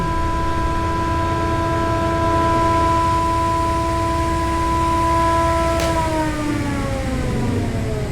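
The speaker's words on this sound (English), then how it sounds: "Again, you can hear that brake engage." An SCM Nova F 520 jointer with a 20-inch Tersa head and an 8 horsepower braking motor holds a loud, steady high whine, then the motor brake engages near the end and the tone drops sharply in pitch as the head winds down.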